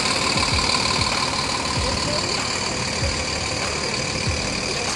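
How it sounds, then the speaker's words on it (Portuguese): A large diesel engine of a vintage front-engine Brazilian bus idles steadily nearby at a bus show, a constant rough rumble with a faint rhythmic knock and no voices. "É a potência do motor dele, ó."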